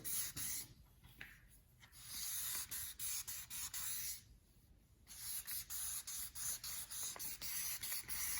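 Sanding a custom paint job by hand with 2000 grit wet sandpaper, heard as a steady run of close, rhythmic rasping strokes with short pauses between passes.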